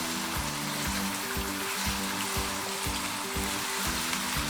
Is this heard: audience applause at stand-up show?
no